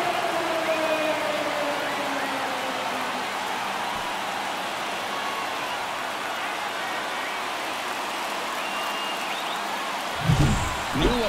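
A home baseball crowd at a Braves–Diamondbacks game roars after a home run, a broad, steady wash of cheering and applause that holds loud throughout, with a few nearer shouts and claps toward the end.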